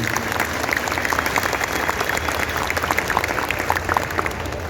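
A convention audience at an anime fan event panel applauds the actor Tsutsui, a steady, fairly distant wash of many hands clapping that holds evenly throughout.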